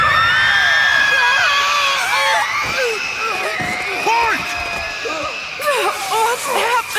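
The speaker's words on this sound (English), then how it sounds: "I can't concentrate with all this screaming!" A crowd screams and shrieks continuously, loud and dense, with wavering high-pitched cries layered over a roaring background.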